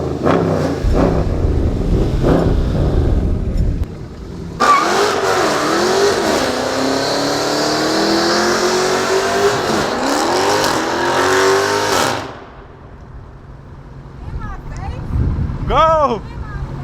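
A Dodge Hellcat V8 revs hard and accelerates close by with a loud rising roar, then drops away into quieter driving noise, with people talking over the start and end.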